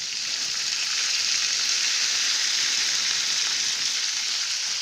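Peas, beans, carrots and other vegetables go into a hot pan with cauliflower and get mixed, giving a constant, loud hiss of frying that stays even throughout.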